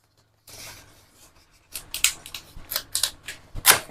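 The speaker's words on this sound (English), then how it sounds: "I'm going to get this box open and we're going to see what's inside of it" Cardboard box for an LG 6000 BTU air conditioner being sliced open with a blade, a run of sharp, scratchy cutting strokes in quick bursts, close and fairly loud, after a quiet start.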